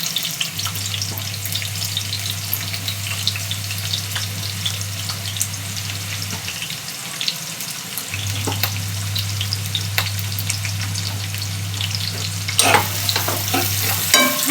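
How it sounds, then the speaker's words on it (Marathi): Long-sliced onions frying in hot oil for chicken sukha, a continuous close sizzle with frequent stirring scrapes, a steady low hum running through most of it and a brighter burst of sizzle near the end. "छान कांदा पण भाजून घ्यायचा"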